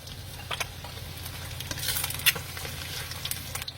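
Tofu goes into a pan where egg is already frying, giving a steady close sizzle with soft stirring scrapes and small clicks throughout.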